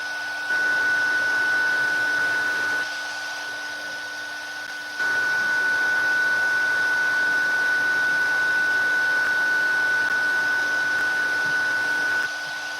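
A heat tool blows a steady whirring roar with a fixed whine while melting leftover embossing powder, loud and continuous with a brief dip in level partway through.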